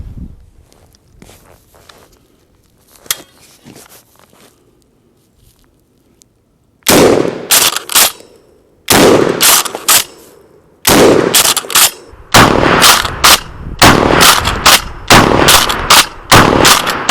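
KelTec KSG 12 gauge shotgun firing mini shells, a quiet stretch of faint handling clicks, then a string of loud sharp blasts at uneven intervals, close and dominant.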